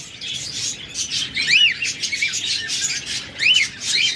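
Two cockatiels call from a bird shop, their shrill rising chirps and squawks repeating at close range, with two loud bursts standing out over a busy background of other birds.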